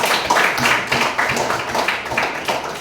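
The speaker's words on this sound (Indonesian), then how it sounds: "Tepukan" A classroom bursts into clapping after a student group finishes its presentation: many hands applauding together in a dense, steady patter that stays loud and unbroken for a few seconds.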